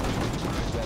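Repair work on equipment in the war video game Foxhole, a steady mechanical ratcheting and grinding clatter lasting under a second, dense and fairly loud, with faint voices mixed in.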